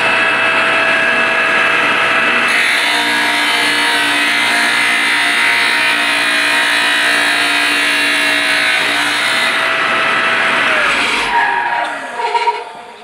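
A TaylorCut abrasive cutting wheel slices through stainless steel stock with coolant running, giving a loud, steady grinding whine with shifting tones that holds for about eleven seconds before winding down as the cut finishes.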